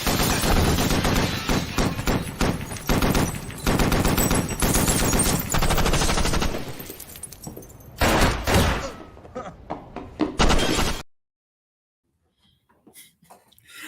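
Gunshots and automatic fire in a scene from the TV crime drama Power: loud, dense bursts of rapid shots, then a few scattered single bangs before an abrupt cut to near silence, alone with no talk.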